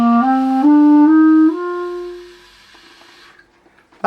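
A woodwind played by a beginner with air moving too slowly, giving a breathy, airy tone: a few quick notes rising in a short run, then a held note that fades out, played alone and close.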